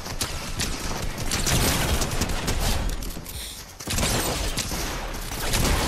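Rapid gunfire in Fortnite, a continuous rattle of shots with mechanical clicks and clatter, loud and close, with a brief lull near the middle.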